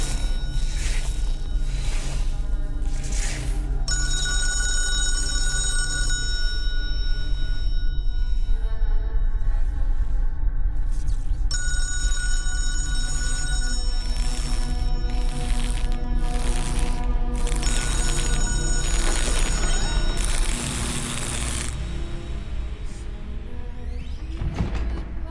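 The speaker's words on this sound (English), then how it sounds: "Somebody answer the phone." An electronic telephone ringing in bursts inside the old St. James End Club, its steady high tones sounding repeatedly over a murky, constant background with no speech.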